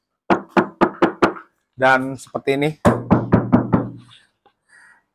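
Knuckles rap on the bare bonnet of a Mazda CX-3 before sound deadening: a quick run of about five sharp, close knocks, then someone speaks, followed by another series of knocks.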